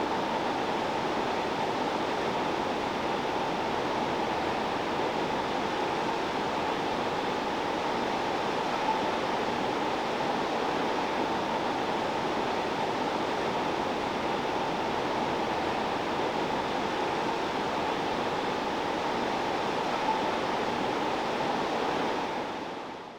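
Water pours continuously over a weir on the River Severn beside the Herefordshire and Gloucestershire Canal, a steady, dense rushing roar that holds at an even loudness throughout with no talking.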